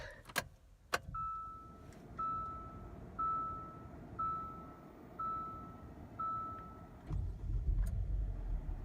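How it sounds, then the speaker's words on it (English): A few clicks and thumps, then a regular series of six electronic chimes at one-second intervals over a low hum, ending as a 2017 Hyundai Santa Fe Sport SUV engine starts and rumbles nearby. "you can hear that the engine does purr well"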